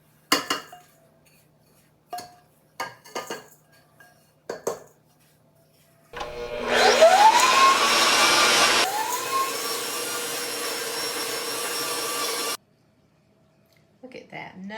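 A stand mixer running on chocolate chip pecan cookie dough starts up loud and steady for about six seconds, its motor whine shifting once partway through, with clinks and knocks of bowls and utensils before and after.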